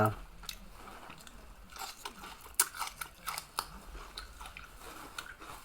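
Tough beef being chewed close up, with irregular wet bites and crunchy chomps scattered through the stretch, fairly faint.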